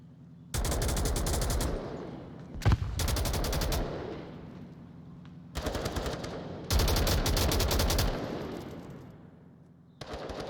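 Gunfire in the VR shooter Onward during a competitive match, long rapid automatic bursts separated by short gaps, loud and dense, with a single sharp shot in between.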